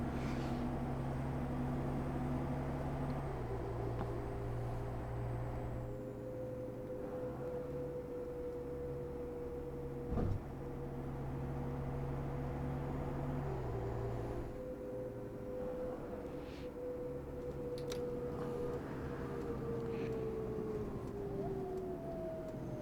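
A city bus engine in the OMSI 2 bus simulator drones steadily and loudly, its pitch climbing, then dropping and climbing again through gear changes, with a brief knock partway through.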